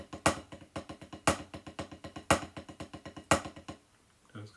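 A snare drum plays the full Refi rhythm part for XR Rhythms UK, steady quick taps with a louder accented stroke repeating about once a second, close and clear, stopping near the end.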